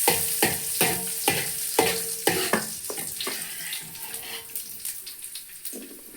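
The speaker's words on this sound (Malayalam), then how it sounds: "ഒന്ന് വഴറ്റി ആ നെയ്യിൽ അടയൊന്ന് വഴന്ന് വരുമ്പോഴത്തേന്" Cooked rice flakes (ada) sautéed in ghee left from frying coconut, cashews and raisins for jaggery payasam, with rhythmic stirring strokes scraping the pan over a soft sizzle, the strokes fading and loosening toward the end.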